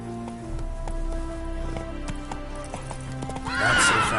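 Roach, the horse in the Witcher 3 video game, gallops with rapid hoofbeats and snorts, ending in a loud whinny; the sound is close and steady, with no talk over it.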